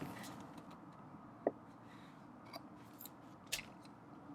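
Scissors snip faintly at fabric overhang while cutting corset pieces, a few sparse, quiet clicks spaced across a hushed room, one sharper cut standing out, no talk.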